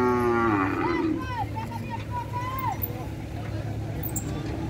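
A bull at a cattle fair in São Benedito, Ceará, gives a long, loud moo at the start, followed by a few fainter lowing calls amid the background murmur of the crowd.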